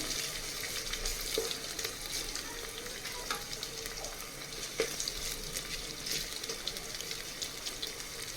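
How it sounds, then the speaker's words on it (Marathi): Ginger-garlic paste frying in oil for a vegetable biryani, a continuous soft sizzle with occasional stirring scrapes and light clinks, steady and close with no talking. "याला आता छान असं भाजून घ्यायचं आहे तेलामध्ये"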